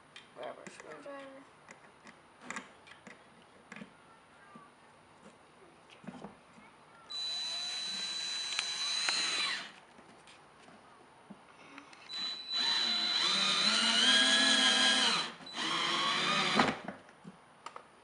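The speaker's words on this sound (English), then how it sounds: "Grab our screwdriver." An electric screwdriver drives screws into wood while building a trash roller, giving three whirring bursts of a few seconds each between quieter handling clicks and some speech.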